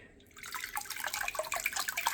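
Water pouring and splashing from an external aquarium filter lifted out of the tank, a steady close trickle with dripping that grows louder after a quiet start.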